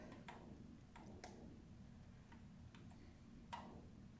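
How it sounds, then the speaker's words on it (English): A game controller's buttons click in the background during gameplay of Wobbly Life, a few sharp isolated clicks spaced irregularly over a quiet backdrop. "I'm sorry if you guys hear my controller in the background."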